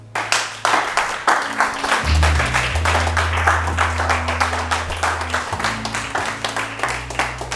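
A church congregation claps and applauds in a steady, fairly loud burst of many hands, with a low sustained organ or keyboard chord underneath.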